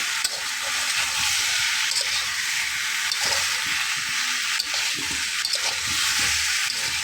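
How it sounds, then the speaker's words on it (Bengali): Steady, loud frying hiss of egg and pumpkin pieces in hot oil in a pan for an egg pumpkin curry, continuous throughout with faint clinks of a spatula. "ভেজে নেব"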